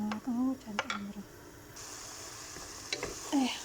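Food frying in a pan with Maggi seasoning gives a steady sizzling hiss that swells partway through, with a voice talking over it at moments.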